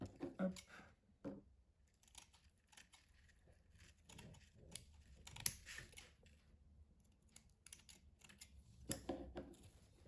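Scissors snipping through a strip of paper during a scrapbooking craft session, a few quiet crisp cuts and rustles spread across the stretch, close by and soft.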